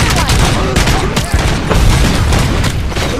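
Gunfire in the video game Robocop: Rogue City: loud, rapid bursts of shots and booms crowd together, dense and close throughout.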